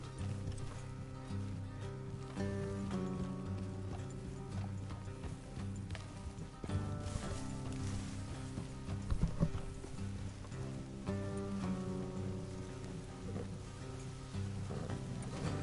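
Steady clip-clop of horses' hooves trotting along a road in the video game Red Dead Redemption 2, over a continuous bed of music, with rhythmic clatter throughout and no talking.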